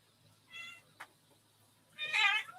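A pet cat named Maggie meows twice indoors, the first cry short and soft and the second longer and louder, with a small knock between them and a quiet room behind.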